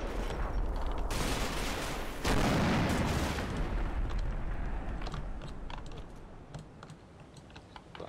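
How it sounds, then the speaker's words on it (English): .50 caliber machine gun fire in a combat video game: loud, dense bursts of automatic fire early on, fading into scattered distant crackling shots. "But I did hear some 50 cal fire."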